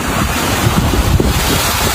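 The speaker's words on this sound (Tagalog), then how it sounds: "lakas talaga ng alon" Strong waves surge during typhoon flooding in Legazpi City, heard as a loud, constant roar of surf churned by heavy wind buffeting the microphone.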